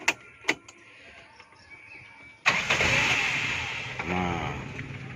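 A 1994 Suzuki Feroza fitted with an HCS system has its engine cranked. A couple of sharp clicks come first, then the engine catches abruptly and settles into a close, steady idle.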